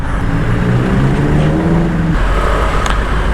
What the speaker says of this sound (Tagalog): traffic all the way